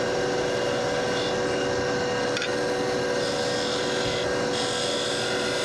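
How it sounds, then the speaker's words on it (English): A wood lathe turns a workpiece growing thinner, giving off a loud, continuous whirring hum with a steady vibrating buzz and scraping tool contact throughout. "You can hear that vibration, just means I'm getting thinner"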